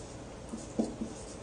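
A pen writes notes by hand, a soft, brief scratching with small strokes close to the microphone, in a quiet room.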